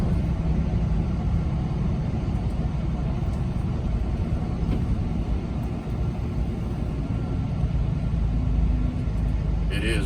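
Heavy truck engine rumbling steadily up close as it creeps slowly through a narrow road and tight turn, a continuous low drone filling the whole stretch.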